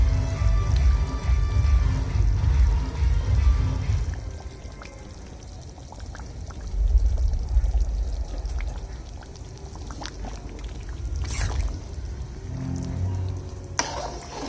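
Ghee poured into mutton cooking in a pot, a low rumbling pour and bubbling sizzle that fades midway, then returns with a few light clinks.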